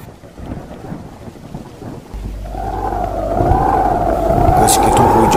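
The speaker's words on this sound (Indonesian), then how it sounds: "Malah henteu cukup ku eta sabab gelap dordar patembalan." Thunder rolls in a low, swelling rumble beneath a storyteller's voice, growing louder toward the end, with a wavering high tone layered over it.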